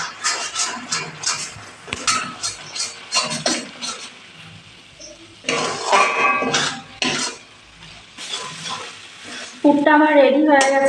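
A parwal stuffing with cashews and raisins cooked and stirred in a pan, loud repeated scraping and clanking of a spoon against metal over a light sizzle, in uneven bursts with short pauses.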